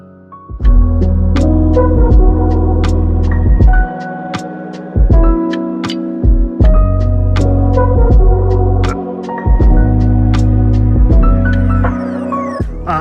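A Redcat COE Custom Hauler RC tow truck drives in short, loud bursts of electric motor whir and gear hum. It repeatedly starts and stops with small clicks and thumps between runs, heard up close with no talking.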